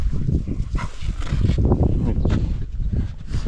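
A ginger dog near a frontline military position, in rain-soaked muddy ground, gives rough, close woofs and whimpering vocalizations amid a dense, noisy background, with a voice mixed in.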